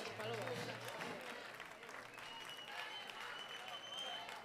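Audience applause at a metal, pop and rock showcase at Bilbao's Aste Nagusia 2024, a dense continuous clapping wash at moderate distance with a voice present.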